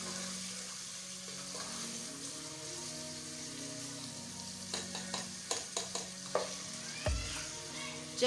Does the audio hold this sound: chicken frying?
yes